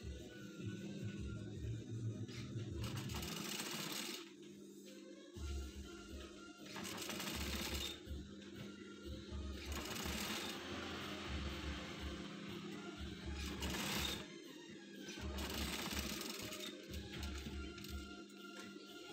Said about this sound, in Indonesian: Langkah selanjutnya kita kasih jahitan bantuan ya.